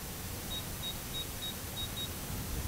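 A Radiomaster TX16s RC transmitter gives six short, evenly spaced high beeps as the throttle passes its 50% centre point, clear over a steady background hiss.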